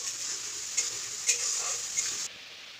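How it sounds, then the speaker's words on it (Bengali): Spice paste poured into a pan with tempering and frying, a close, even sizzle with three quick spoon scrapes before it abruptly drops quieter. "এবারে এর মধ্যে তৈরি করে রাখা পেস্টটা ঢেলে দিলাম। এবার পেস্টটা নাড়াচাড়া করতে হবে।"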